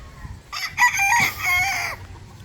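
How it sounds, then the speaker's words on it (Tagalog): On a chicken breeding farm keeping Boston Black fowl, a rooster lets out one clear, fairly close crow lasting about a second and a half, over soft low background noise. "So, madami ditong manok, mga breeding material."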